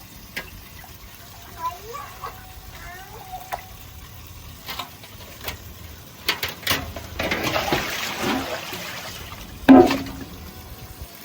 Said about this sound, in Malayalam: ഒരു 3-4 വെള്ളത്തിൽ കഴുകണം.